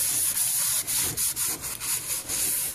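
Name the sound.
wiping out a cast iron pan with a dry paper towel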